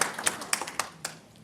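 A brief patter of a few scattered hand claps from an audience at a panel talk on digital technology, fading out within a second or so.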